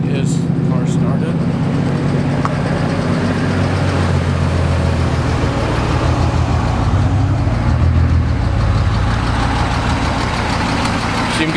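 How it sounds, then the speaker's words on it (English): A drift car's engine idles steadily at close range after starting, a low continuous rumble with people talking over it. "Sounds like his car started."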